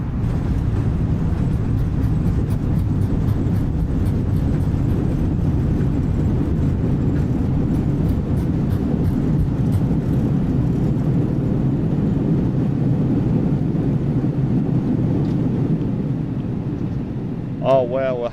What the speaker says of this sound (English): Okay, reverse thrust.